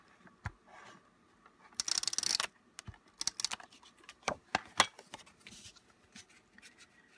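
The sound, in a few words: tape runner applying adhesive to card pieces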